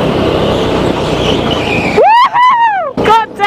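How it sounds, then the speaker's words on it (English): Go-kart power drifting on a TeamSport indoor track, with a loud rushing engine and tyre roar for two seconds, then a voice whooping and shouting over fading kart noise. "I'm getting some sick ass fucking power drifts going."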